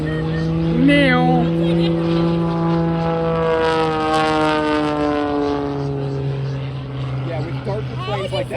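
An old propeller airplane with a high-revving engine passes at an air show. Its engine drone rises to a loud, buzzing pass and then sweeps lower in pitch as it moves away, while spectators talk briefly nearby.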